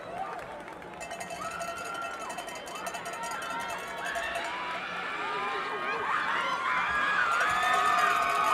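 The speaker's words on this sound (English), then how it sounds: "So the homecoming court coming by, being introduced to some of these fans. That's what you're hearing on the cheering side." Football fans in the stands cheer as the homecoming court is introduced at a high school game, a broad crowd roar that swells toward the end, with scattered shouts and whistles.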